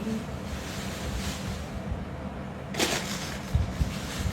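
Wind blows outdoors in a steady, rushing roar across the microphone, with a stronger gust partway through and a few low thumps near the end.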